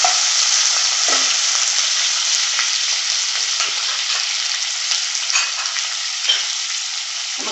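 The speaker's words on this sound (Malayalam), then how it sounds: "നല്ലപോലെ ഇളക്കി കൊടുക്കാം." Chopped gooseberries fry for a Kerala pickle, a loud, even, close sizzle running throughout, with occasional soft scrapes of a spoon stirring the pan.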